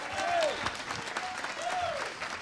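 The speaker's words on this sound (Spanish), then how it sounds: "démosle palmas a Jesucristo el Señor" A church congregation claps in praise during a sermon, a moderate burst of applause with a faint voice or tone sliding through it.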